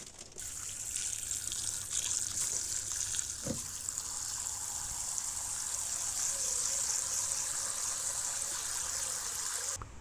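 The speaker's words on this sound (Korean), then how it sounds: "먼저 깐 마늘을 구입한 경우 이물질을 제거하기 위해 한번 헹궈주세요." Peeled garlic cloves being rinsed under running water, a steady broadband splash and gush from a tap that holds throughout, with one brief thump partway through.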